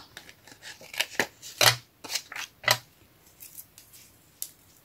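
Scissors snip through paper card in a series of close, crisp cuts, some quick and light, a few louder, spread unevenly over a few seconds in a quiet room.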